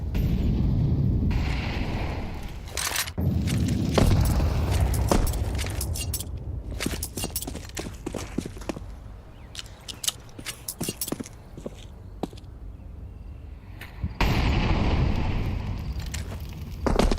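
Booming grenade blasts and scattered crackling gunfire in an online multiplayer match, loud bursts at the start and near the end, with clattering impacts and footsteps in between.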